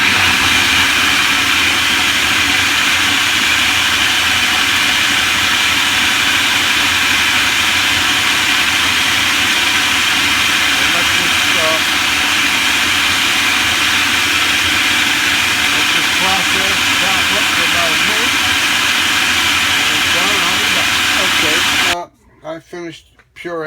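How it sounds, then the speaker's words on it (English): A food processor purees enchilada sauce, a loud, steady motor roar with churning grind that runs for about twenty seconds before cutting off abruptly. "Put the top back on the food processor and turn it on."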